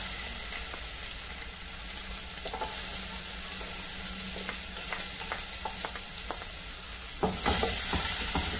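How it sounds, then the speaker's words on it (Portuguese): Chopped onion sizzling in a little olive oil in a pan as lasagna prep begins, a steady close frying hiss with small crackles throughout, brightening and growing louder near the end. "E vou colocar a minha cebola."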